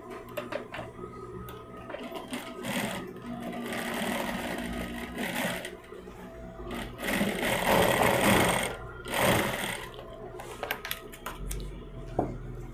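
A sewing machine runs fast, stitching another seam on a handmade bag, its needle chattering in a continuous mechanical rattle broken by short pauses and fabric handling nearby.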